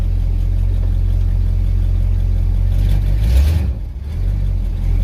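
A 1970 Dodge Charger with a 413 engine and 727 transmission pulls away in first gear with a loud, deep, steady rumble up close that swells briefly and then dips before settling again, with no talk.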